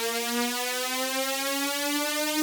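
A bright, buzzy synthesized sawtooth tone slowly rising in pitch, dry and steady, with no other sounds.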